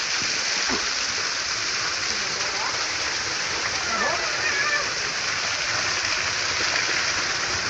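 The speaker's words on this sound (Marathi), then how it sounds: "याक्यात आणि वॉटरफॉल दाखवतो तुम्हाला" A waterfall in the forest pours with a steady, dense rushing roar that fills the whole clip, while faint voices murmur now and then beneath the water.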